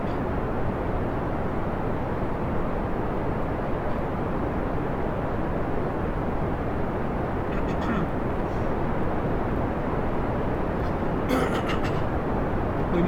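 In Kerbal Space Program, a rocket lifts off with its engines throttled up, giving a continuous dense rumbling roar that holds steady and close throughout, with a few faint crackles near the end.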